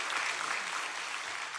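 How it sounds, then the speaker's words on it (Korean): A church congregation claps together to welcome an elder during worship. The clapping is a continuous, even patter that fills the room without speech. "잠시 박수로 환영하도록 하겠습니다."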